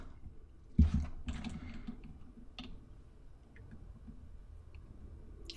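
Keystrokes on a computer keyboard come in a few short, quiet bursts of clicks close up, with a louder tap near the start and near-silence between them.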